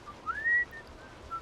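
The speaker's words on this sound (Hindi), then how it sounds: "उसके पीछे चलते हुए मुझे उसकी सीटी की सी आवाज़ सुनाई दे रही थी।" Faint, thin whistling from a man, a short rising tone that levels off and fades into a couple of softer notes over a quiet background, used as an effect in a spoken story.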